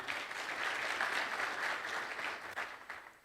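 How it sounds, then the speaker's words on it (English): Sustained audience applause in a forum hall, dense and steady clapping from a large crowd that thins slightly near the end. "I would like you to join me to give him a round of applause"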